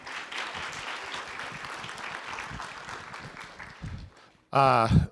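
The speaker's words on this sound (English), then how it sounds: "give yourselves a round of applause for that" A large audience at a guide dog school graduation bursts into loud, dense applause near the end, right after a stretch of amplified speech from the stage.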